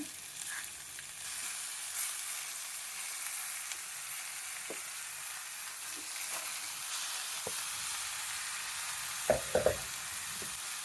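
Tomatoes frying in a pan for dondakaya pappu, with a steady close sizzle and a few sharp clinks of stirring near the end, no voices.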